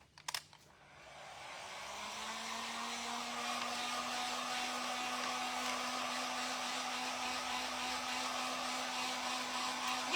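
A hair dryer blows over a thrifted book's cover, starting after a couple of quick clicks, then ramping up to a steady, close whooshing whine that holds at an even level throughout.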